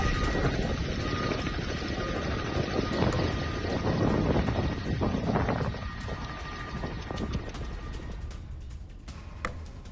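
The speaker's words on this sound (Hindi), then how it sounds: "एचटीएस कब्जे में लिए हेलीकॉप्टर का कर रहा है इस्तेमाल।" Captured Syrian military helicopter, a K-28 or Mi-25 type, flying steadily with a continuous loud rotor and turbine roar blended with wind noise for the whole stretch, easing slightly toward the end.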